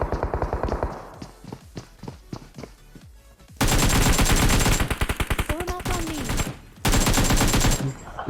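Rapid bursts of automatic gunfire in PUBG Mobile, loud and close, with sustained volleys and short pauses between strings of shots.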